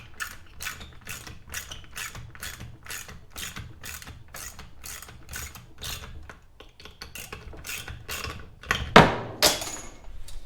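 A ratchet tightens the carburetor nuts on a Homelite Bandit SX-135 string trimmer, giving a steady run of rapid, close clicks that pauses briefly and then ends in a louder metallic clatter.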